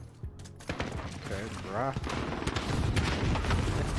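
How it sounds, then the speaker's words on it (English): A sentry turret firing in Call of Duty: Modern Warfare multiplayer, a rapid stream of shots that grows louder and denser toward the end, with a voice speaking briefly over the start. "How the fuck did they get a sentry turret?"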